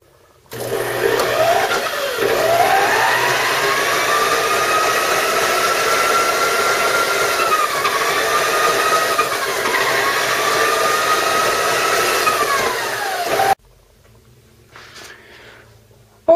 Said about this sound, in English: right now I'm snaking it